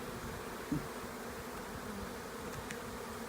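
Honey bees buzz steadily around a nucleus hive, a continuous low drone of many insects heard outdoors at moderate distance with no talking.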